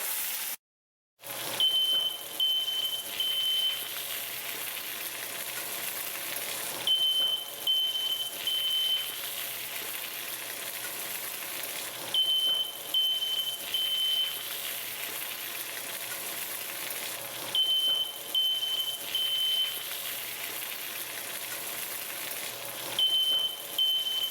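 Smoke alarm set off by smoking food in a kitchen while beef stroganoff cooks, chirping in short repeated bursts every few seconds over a constant hissing sizzle, no voices.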